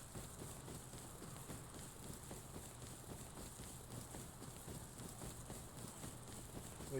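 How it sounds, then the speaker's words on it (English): A horse's hooves clip-clop steadily in the survival game Rust, a faint rhythmic patter under a constant hiss of ambient noise. "There's a horse."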